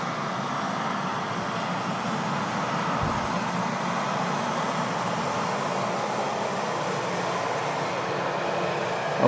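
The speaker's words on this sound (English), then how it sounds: "this was one of the last fast trains operated with steam trains" A fast steam train from around 1980 passes by in a steady, even rush of wheel and running noise that stays constant for several seconds, moderately loud and with no speech.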